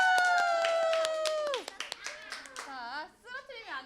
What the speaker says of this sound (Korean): 우리 소나기 박수!